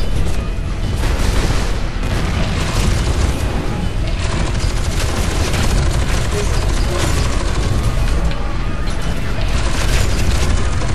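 Missiles detonating in the first-person shooter F.E.A.R. 2: Project Origin, a dense, continuous roar of booming blasts and crackling debris, loud and unbroken throughout.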